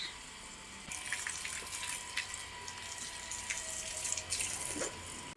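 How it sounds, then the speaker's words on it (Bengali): Water runs from a small pipe to wash and bathe things outdoors, a steady close splashing flow with some drips and gurgles and no talking. "এই দেখো কত সুন্দর জল দিয়ে এদেরকে একদম স্নান করিয়ে দিলাম"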